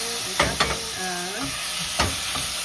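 Garlic and onion sauté quietly in a pan under a soft sizzle, with a few spatula taps and a brief tonal sound partway through.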